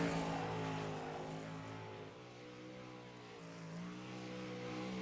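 A black number 97 race car runs a lap in a Midwest Outlaws 305 event, its engine holding a steady, loud harmonic drone that dips slightly midway and then swells again, with no talking.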